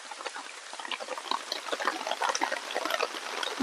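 Heavy rainfall rattles on a tarp roof at a forest camp, a loud steady spatter of crowded drops that swells slightly midway, with no talking.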